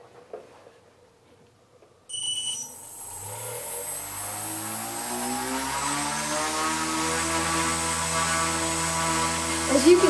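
An electric motor spins up a roughly 160-gram propeller on a thrust test rig with a battery, receiver and speed controller. A high whine rises steadily in pitch over several seconds into a loud, sustained buzzing drone, close to the microphone.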